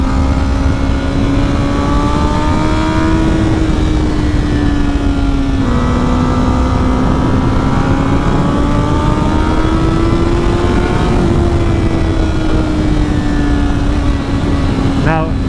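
A Honda CBR1000RR sport bike engine drones steadily with slight rises and dips in pitch, loud and close under heavy wind rush and a voice talking.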